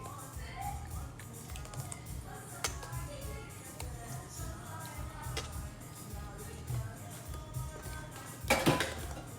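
A spoon scrapes and knocks against a bowl while Guyanese corn pone batter is stirred, giving soft, irregular clicks and taps at moderate distance, with one louder clatter near the end and low voices murmuring in the background.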